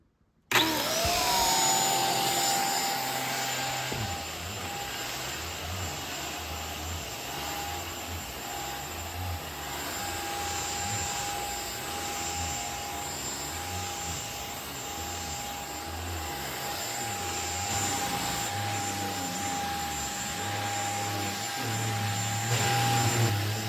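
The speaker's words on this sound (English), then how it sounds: "I just vacuumed those two areas, that blue shag rug that's sitting on one couch, and then that other tan couch" A VEVOR high-power furniture and mattress vacuum cleaner runs steadily and loudly up close, its motor making a continuous whine with a sustained high tone as it vacuums a blue shag rug and a tan couch, with no talking.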